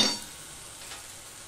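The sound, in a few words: green peas sizzling while frying in spice paste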